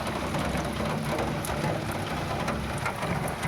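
Water drips and patters from rain mixed with runoff from a machine, a dense, steady spatter with scattered sharper drops close by.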